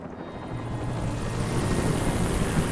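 Police helicopter in the video game Alan Wake, a rising rotor drone with dense low thumping that grows louder and nearer over a few seconds.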